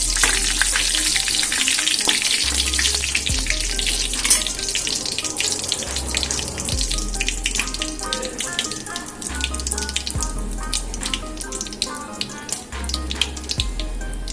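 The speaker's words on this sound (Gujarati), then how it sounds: "એના માટે આપણે થોડી વાર સોતે થવા દઈશું એને।" Whole spices and cumin sauté in ghee, giving a steady, close hiss and crackle that runs throughout with a faint watery, rushing quality and small pops.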